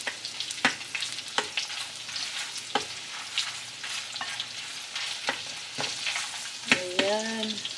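Sausage frying in a pan, a continuous crackling sizzle with irregular spatter pops and occasional utensil clicks, and a brief voice-like tone near the end.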